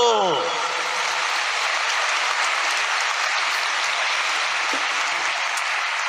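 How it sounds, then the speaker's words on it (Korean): A large crowd applauds at a religious rally in the Songdo Convensia convention hall in Korea: dense, even clapping that holds steady for several seconds after a brief burst of laughter at the start. "박수!"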